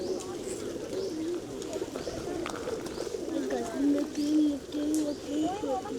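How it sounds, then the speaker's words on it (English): A pigeon being held at a botanical garden in Chiang Mai coos in repeated low, rolling phrases close by, while people talk nearby and other birds chirp faintly. "Took the pigeon out of the lady's hand."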